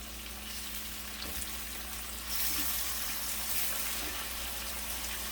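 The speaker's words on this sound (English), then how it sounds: "You just cook the garlic 60 seconds or so until fragrant." Garlic fries in a pan before short ribs are braised, a faint, even sizzle that swells slightly partway through and carries a wet, watery edge, with no talking.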